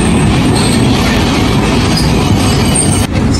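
A Nagasaki city tram running loud and close, a continuous rumbling rattle of wheels on rails with faint high squeals over it, and no talk.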